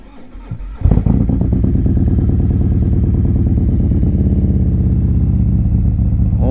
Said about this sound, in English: nothing better than a cold start, let me tell you